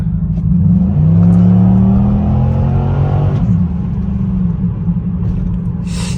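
A Chevrolet Impala SS driving along, its steady engine rumble and road drone carrying a rising whine from a failing power steering pump, loud and close with no voices.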